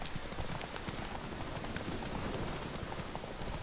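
A horse gallops across terrain in The Witcher 3, its hooves clip-clopping in a rapid, continuous rhythm, steady and moderately loud with no voices over it.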